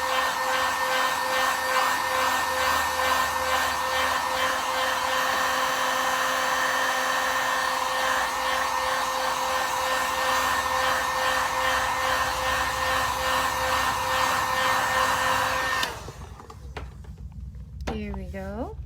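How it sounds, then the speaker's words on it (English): A heat gun set on low blows a loud, steady whine and rush of air while drying acrylic paint on a tumbler, then cuts off near the end, leaving a quieter room where a voice speaks. "you can always take your heat gun"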